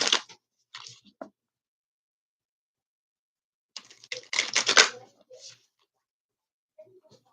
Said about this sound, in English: we're going to go ahead and give a couple shuffles